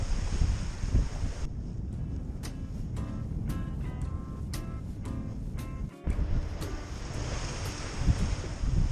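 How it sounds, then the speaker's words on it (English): Wash from a passing ship slaps against a sailboat out on the Solent at sunset, a steady rush of water with wind buffeting the microphone, choppy splashes rising and falling over about nine seconds, no voices. "That is the wash off of a ship that's just gone past."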